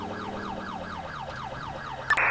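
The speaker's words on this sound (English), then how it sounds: "Like, I have my sirens on, so why aren't any of these cars pulling over?" A police cruiser siren in GTA IV wails in a fast, repeating up-and-down cycle over a low engine hum, steady and moderately close, ending with a short sharp blip.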